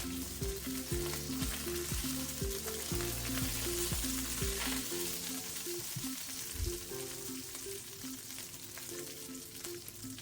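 Curry leaves fry in hot oil in a pan for masala oats, a loud continuous close sizzle with stirring scrapes and no talk.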